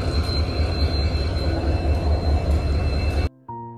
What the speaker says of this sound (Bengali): এরপর ঠিক 6টা 45-এ আমাদের ট্রেন ছেড়ে দিল